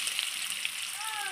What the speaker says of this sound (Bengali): এই যে আলুগুলো লাল লাল করে ভেজে নিয়েছে